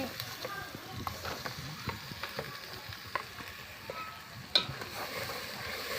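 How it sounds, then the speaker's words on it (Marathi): Mutton masala frying in a pot over a wood-fired clay stove, a soft crackling sizzle with scattered stirring knocks and scrapes, fairly faint and without voices. "मसाला मटण मसाला टाकीचे परतून घेते"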